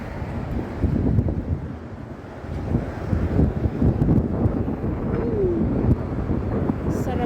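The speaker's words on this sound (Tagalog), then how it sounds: "Sarap ng hangin, guys." Steady wind rushes outdoors along a walking route, with low buffeting gusts hitting the microphone continuously and rising and falling throughout.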